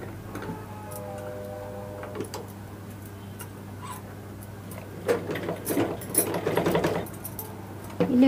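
A sewing machine runs a line of top stitching with rapid mechanical ticking, starting quietly and then breaking into louder, busier bursts toward the end.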